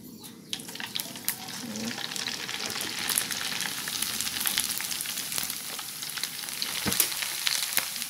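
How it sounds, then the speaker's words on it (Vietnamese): Noodles deep-frying in a pan of very hot oil for a vegetarian crispy stir-fried noodle dish give a dense, steady close-up sizzle and crackle, with a few sharper pops and a brief quiet moment at the start. "mình để mì vô mình chiên nó sẽ mau hơn nha các bạn"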